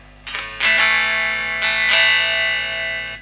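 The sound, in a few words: electric guitar on bridge pickup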